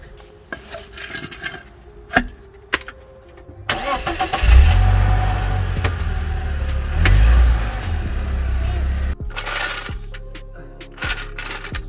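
A BMW E36 starts up and idles, then its engine rumbles louder as it drives up onto a piece of wood ahead of a front wheel bearing job, framed by metallic clinks and taps before and after, with no talking.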